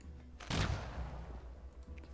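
Enemy mortar in a strategy game fires once with a sharp, loud boom whose rumbling tail fades over the next second and a half, heard alone at moderate distance.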